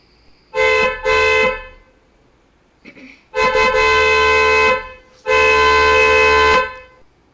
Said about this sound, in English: Cars hooted on the road.